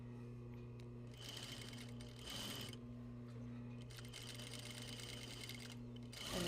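A sewing machine stitches down the rest of a garment seam in bursts, a close, rapid mechanical whirring with a steady motor hum, pausing briefly between runs and speeding up again at the end.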